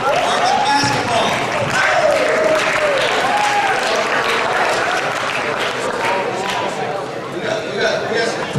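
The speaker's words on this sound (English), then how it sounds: "Let's give these seniors a round of applause one more time." Audience applause for graduating seniors at a high school basketball banquet, steady and sustained across the whole stretch with crowd noise and voices mixed underneath.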